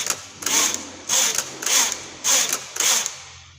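Carriage of a knitting machine sliding back and forth across the needle bed while knitting rows of a baby sock, five regular whirring passes with short pauses between, close and fairly loud with no talking.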